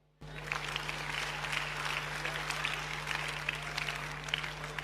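Applause from a church congregation during a French-language sermon about Islam fills the space as a dense, steady wash of many hands, constant and fairly loud throughout with a low steady hum beneath.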